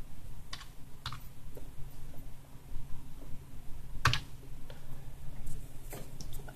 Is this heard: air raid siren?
no